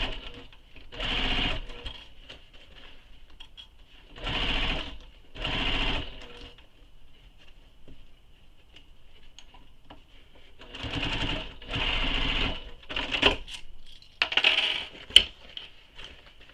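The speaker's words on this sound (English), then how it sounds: "So start sewing" A sewing machine stitches a quiver sling panel in several short bursts of rapid mechanical running, separated by quiet pauses, with faint handling clicks between runs and no talking.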